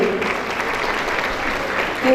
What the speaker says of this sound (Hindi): उनके लिए एक बार जोरदार तालियां होनी चाहिए